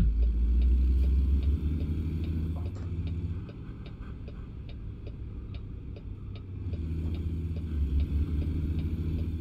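Truck engine in American Truck Simulator drones steadily at a low pitch throughout, easing slightly in the middle before swelling again, with faint regular ticking over the top.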